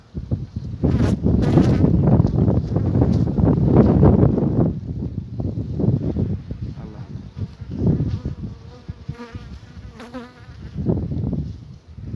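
A dense, loud buzzing of many honeybees close by at an open hive during an inspection, with wind rumble and handling noise mixed in, easing somewhat midway before swelling again.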